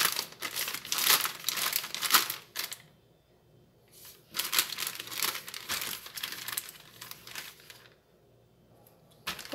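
A plastic bag handled and crumpled in a kitchen, with close, loud bursts of crinkling in two main stretches and a quiet gap between them.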